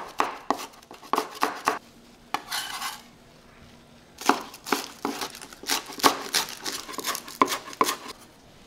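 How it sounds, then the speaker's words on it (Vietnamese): A knife chops green onions on a cutting board in quick clusters of sharp taps, fairly close, with short pauses between runs. "Cắt một chút hành lá để trang trí."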